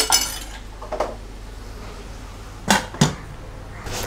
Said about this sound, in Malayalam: ജസ്റ്റ് നന്നായിട്ടൊന്ന് ഇളക്കി കൊടുത്ത ശേഷം നമുക്കൊരു അടപ്പ് വെച്ച് അടച്ച് വയ്ക്കണം.